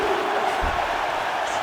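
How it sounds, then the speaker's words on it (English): Arena crowd roar in the UFC 5 fighting game on PS5, rising as two fighters return to their feet after a long grappling exchange; a steady, dense wash of cheering throughout with no clear individual voices. "Oh, crowd just loving it as the fighters, after an extended grappling battle, make their way back to the feet."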